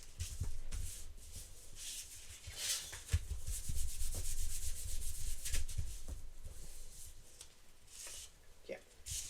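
Paper is rubbed down by hand while a collage is glued with matte medium, making soft, close, irregular swishing and scraping strokes that rise and fall in bursts.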